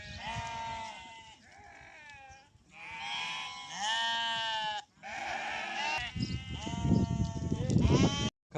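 Several sheep bleat in repeated wavering calls, close and loud, on a date-palm farm in Saudi Arabia, with a rougher burst of livestock noise and shuffling toward the end.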